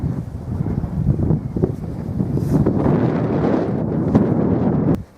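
Strong wind blowing across an outdoor wind turbine test site, a steady, loud low roar with gusty buffeting against the microphone throughout, no voices.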